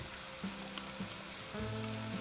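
Garlic and sour cream sizzle steadily in a frying pan with a dense, continuous crackle at close range, growing slightly fuller in the last second as the cream settles in.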